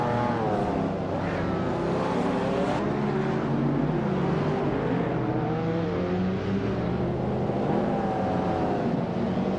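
A 1987 Porsche 959 retro street car in a racing game, its engine droning steadily at close range with shifting revs and tire noise, running continuously throughout without any talk.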